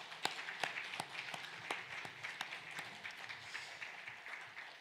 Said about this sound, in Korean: 우리 서로 박수하겠습니다